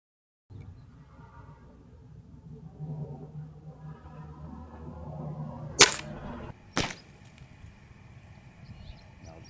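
A Umarex Octane Elite .22 air rifle fitted with STOPSHOX fires one sharp, loud crack, followed about a second later by a second short snap, over a low steady background murmur.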